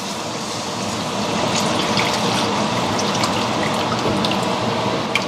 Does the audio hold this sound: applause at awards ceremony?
no